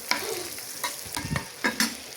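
Onions frying in hot oil in a pan, a steady sizzle broken by several sharp scraping stirs of a spoon, close and fairly loud, with no voices.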